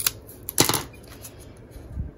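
A small piece of cardboard being trimmed, giving a few sharp, close cutting snips and crackles in quick irregular bursts over a couple of seconds.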